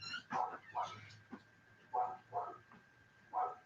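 A dog barks and yips in short bursts, about six sharp barks spaced irregularly, fairly close and moderately loud, with a faint steady hum beneath.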